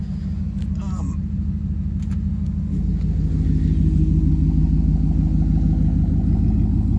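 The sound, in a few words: Audi RS4 turbo exhaust revving with valve open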